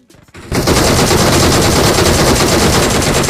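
Loud gunfire in the video game PUBG on the Miramar map: a few faint clicks, then a sustained automatic burst of rapid shots that continues to the end.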